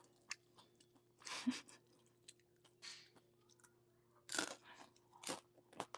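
Someone chews crunchy homemade Pontianak bakwan fritters with shrimp, giving several close, crisp bites and crunches spaced out between quieter moments, with no talking.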